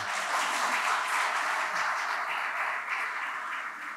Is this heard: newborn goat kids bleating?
no